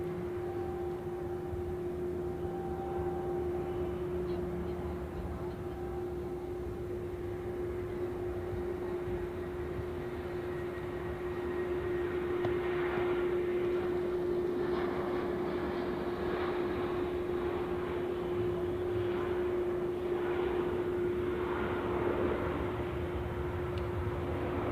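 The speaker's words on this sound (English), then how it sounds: "Turkish has to give way to Austrian, to Vienna, Embraer 195 or 190" An Austrian Embraer 195 or 190 airliner at Zurich Airport in the evening gives a steady, distant jet engine drone with a sustained whining tone and a slight swell toward the end.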